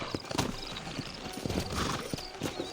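Horses walk with clip-clop hooves at a town in the Red Dead Redemption game, a close, irregular patter of hoof hits with a brief whinny, fairly quiet and without talk.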